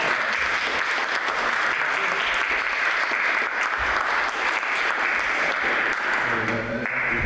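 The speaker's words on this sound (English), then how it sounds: "how about a nice round of applause?" An audience at a town conservation commission meeting applauds steadily, dense clapping that holds at an even level throughout before easing slightly at the very end.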